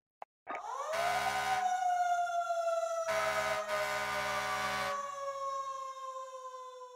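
A fire truck horn from a Call of Duty Warzone bundle, a sharp click followed by a long wailing tone that settles and holds, with repeated loud blasts layered on top, alone with no talking.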